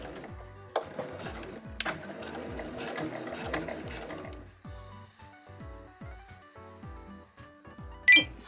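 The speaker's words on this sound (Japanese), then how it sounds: "しっかり端まで縫いましょう。" A domestic sewing machine stitches fabric right to the edge, a close, rapid mechanical chatter of needle strokes that slows and pauses briefly, ending with a short sharp click.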